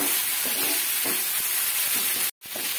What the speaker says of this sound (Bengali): টমেটো দিয়েও আমি মিডিয়াম টু লো ফ্লেমে রেখে টমেটো মশলার সঙ্গে কষিয়ে নেব।